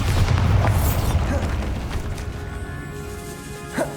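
A Bombarda spell goes off in the Hogwarts Legacy game inside a decayed catacomb, a loud booming blast at the start that rumbles and fades, with a smaller thud near the end.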